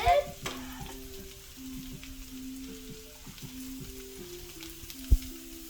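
Peppers and onions sizzling in a pan with crisping breakfast potatoes, a soft steady frying hiss with a few stirring clicks and one sharp knock near the end, no talking.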